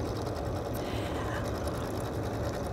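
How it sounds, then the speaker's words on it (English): Janome sewing machine stitching a decorative circle with a circular attachment, a steady close whirring hum with no pauses. "select a fun decorative stitch, simply lower my presser foot, and start sewing"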